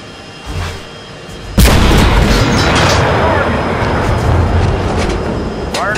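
A tank gun fires at the Battle of 73 Easting: a single sudden, loud boom cracks out near the start, followed by a long rumbling roar that lingers under faint background noise.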